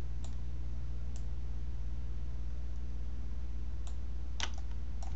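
A computer mouse clicks a few times during click-and-drag masking work in ZBrush, sparse sharp clicks over a steady electrical hum and hiss, quiet and close with no talking.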